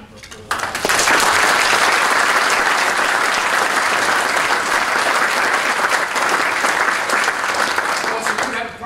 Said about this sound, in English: I actually think we owe Tim and John a round of applause